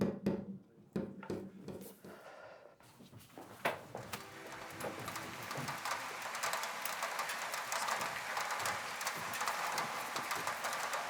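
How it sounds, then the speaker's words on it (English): Steady rain falls with a broad hiss that builds and settles into a constant wash, with a few knocks and thumps early on. "Good to get out of the rain."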